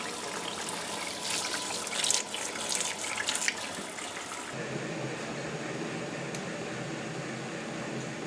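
A home-grown tomato gets rinsed under a running tap, a steady splashing stream with a few louder splatters as the fruit is turned, then the flow continues more evenly.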